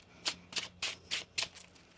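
Tarot cards are shuffled in five quick, crisp riffling bursts, close and fairly quiet, with no talking.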